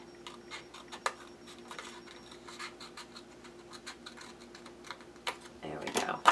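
Paper being cut for an altered box card organizer, a sequence of light, close snips and scratchy ticks at an irregular rhythm, with a louder rustle at the very end.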